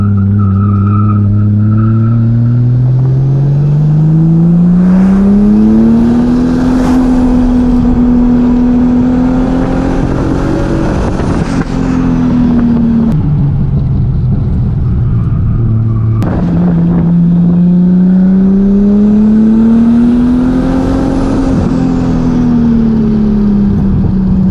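An 800whp 2JZ-engined Nissan Cefiro driven hard in second and third gear on a mountain road, its loud engine rising and falling in long, smooth sweeps of revving with a sharp gearshift break midway, heard close throughout.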